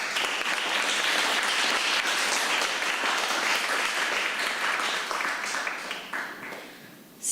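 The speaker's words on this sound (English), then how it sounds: "Please give them a round of applause." An audience at an English public speaking contest final gives sustained applause, many hands clapping evenly for several seconds before the sound thins and fades near the end.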